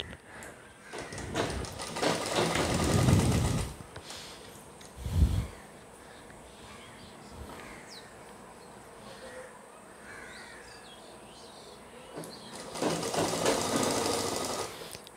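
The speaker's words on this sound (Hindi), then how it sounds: "इसमें हल्का हल्का हाथ रख करके फिर ये सिलाई लगाते हैं" Sewing machine stitching the side seam of a coat, with two longer loud runs of stitching at the start and end, a short burst in between, and quieter handling in the pauses.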